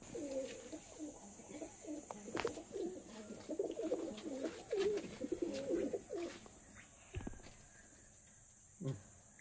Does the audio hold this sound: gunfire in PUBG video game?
no